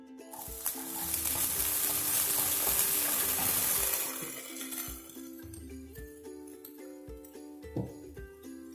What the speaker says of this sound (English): now here I'm adding my carrots and peas. Then again I'm giving it a good mix.